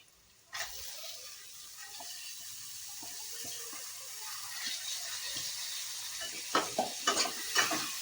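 Moth beans drop into roasted masala in a pan and sizzle as they are stirred, a sudden hiss giving way to steady frying with scraping spoon sounds, fairly quiet and close.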